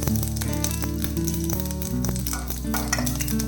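Curry leaves dropped into hot oil with fenugreek seeds for a South Indian chilli pachadi, hissing and crackling loudly and steadily, close by, with a stir partway through and no one speaking.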